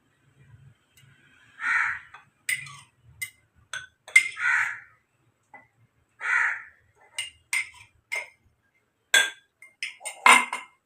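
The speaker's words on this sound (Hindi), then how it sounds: "अब हम इसमें डाल लेते हैं आइस क्यूब" Ice cubes clinking into a glass while elaichi sharbat is being made, a series of separate bright clinks and knocks with quiet gaps between them, close and clear, with no talking.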